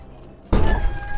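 A cat meows in one sudden loud, close, wavering cry that holds for under a second with no talking over it.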